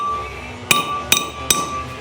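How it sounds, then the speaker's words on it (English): A bearing is hammered in along its outer race during a Subaru flywheel and clutch installation. Three sharp, ringing metallic strikes land about half a second apart over a low background hum. "if you're careful and you manage just to hit along the outer race and not to hit within the sealed portion of the bearing"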